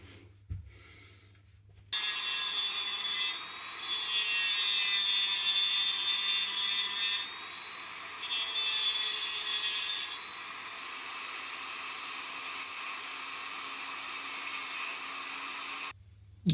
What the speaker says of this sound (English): I'm going to swap that out and use the cutting disc as a grinder, and just finish off that last little bit of detail